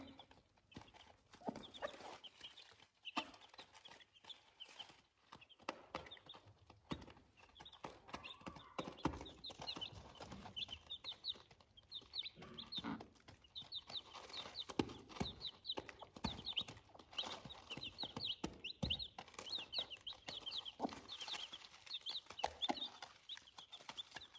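A hen with her chicks eats feed, giving quick, irregular pecking taps and soft clucks close by, continuing without pause and with no talk over them.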